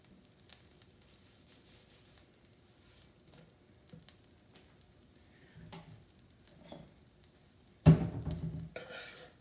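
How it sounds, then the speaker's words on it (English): A tortilla heating in a little butter in a pan gives a quiet, intermittent sizzle and soft patter, swelling into a louder burst of frying noise near the end. "a tortilla with just a little bit of butter. I'm going to heat it on both sides"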